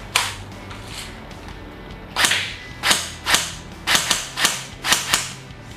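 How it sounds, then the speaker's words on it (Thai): An ARES Amoeba Honey Badger airsoft AEG fires a series of sharp, snappy reports close by, each with a short mechanical clack, about eight in total. "ยิง3นัดนะครับเดี๋ยวสาธิตให้ดูนะครับ"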